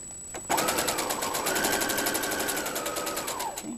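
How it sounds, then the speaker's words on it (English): A sewing machine stitching a zipper bag, starting after a brief pause and then running in a fast, steady, even rattle of needle strokes up close until the clip ends. "I'm going to roll my needle down and I back stitch."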